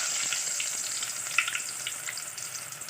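Chicken pieces sizzle steadily in a hot pan for chicken sukka, a dense continuous frying hiss with a few brief pops and stirring, no talking.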